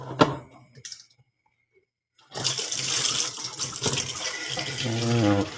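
Water running from a tap into a sink while hair is wetted, a steady splashing gush starting after a brief quiet gap, following a few clicks and handling sounds.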